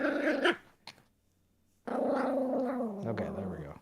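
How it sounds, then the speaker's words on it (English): Puppies growl and whine in close, playful bursts, with a short yelp, a pause of near silence, then a longer stretch of rumbling growls and squeaks. "Oh god, the puppies."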